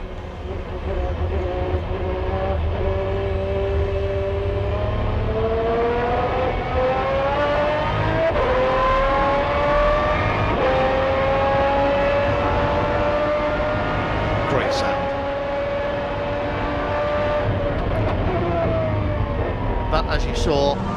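FIA GT Championship race cars at Silverstone during the 2008 Tourist Trophy roar past. The engine note climbs steadily through the gears, loud and continuous, with a commentator talking underneath.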